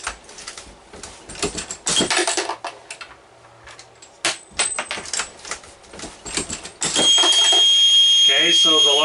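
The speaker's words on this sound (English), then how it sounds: "Okay, so the alarm system's going off" A primer alarm on a Loadmaster reloading press goes off in the last couple of seconds, a loud steady electronic tone, after a stretch of clicks and mechanical clatter from the press with someone talking.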